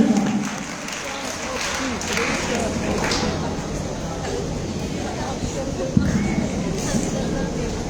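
Seminar audience bursts into applause, a dense, steady wash of clapping hands that holds evenly for about eight seconds with one sharper clap near the end and a faint murmur of voices underneath.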